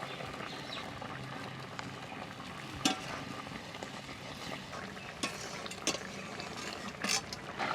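Ground ginger paste fries in a pan, giving a continuous close sizzle with intermittent stirring clicks and scrapes against the pan, and no talking.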